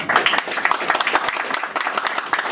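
Scattered applause breaks out at an installation ceremony for a new director general, honoring the outgoing director general with uneven, moderately loud claps for a couple of seconds.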